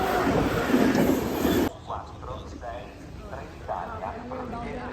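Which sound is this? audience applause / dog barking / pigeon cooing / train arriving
train arriving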